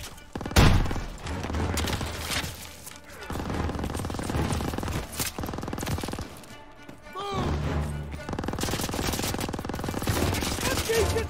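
Heavy automatic gunfire and explosions in a Call of Duty: WWII street battle, loud sustained bursts with crashes and sharp impacts, dense combat noise throughout.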